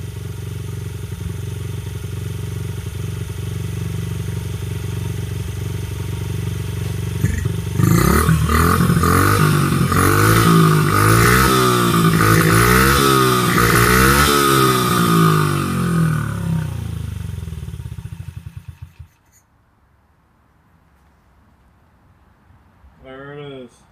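Engine of a 2001 Honda XR50R dirt bike running nearby, idling and then revving hard for several seconds before cutting out as the carburetor runs dry. Someone talks over it and afterward.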